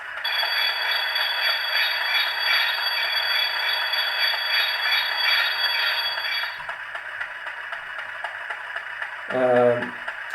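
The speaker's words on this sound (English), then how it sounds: "Number 4 is the brake squeal, which just sounds like Santa on his sled" A Hornby Class 50 model locomotive's TTS sound decoder plays a high, sustained metallic brake squeal with a jingling, sleigh-bell-like shimmer that cuts off, followed by a short spoken word.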